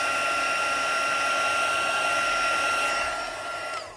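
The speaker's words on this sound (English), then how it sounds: "my heat tool is not heated" A heat embossing tool blows hot air in a steady, whirring fan hiss with a faint electric whine, close to the microphone, and the sound tapers off near the end.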